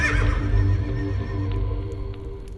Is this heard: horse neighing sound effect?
yes